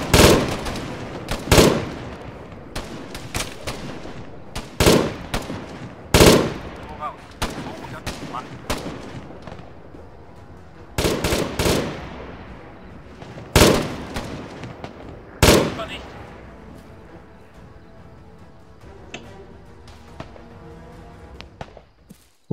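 Gunfire in the military shooter game Arma 3 with German weapons: sharp, loud shots in irregular bursts and single cracks, some near and some distant, echoing between bursts and fading toward the end.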